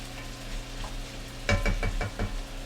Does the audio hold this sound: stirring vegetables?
yes